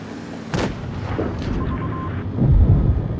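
A tank cannon booms in a tank video game, one sharp near blast followed by a rumbling tail and a second heavy thud a couple of seconds later, no talk.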